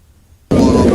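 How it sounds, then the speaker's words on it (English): A JDAM bomb, suspected MK-84, detonates in a single sudden loud blast after a moment of quiet, followed by a sustained broadband roar that carries on to the end. "this is what the JDAMs sound like"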